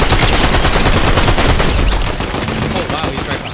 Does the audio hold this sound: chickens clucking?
no